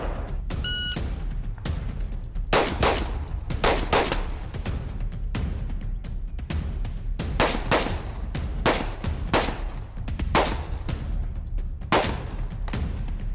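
Rapid rifle shots at a firearms competition ring out in quick irregular strings of sharp cracks over a steady outdoor rumble, moderately distant, with no talking.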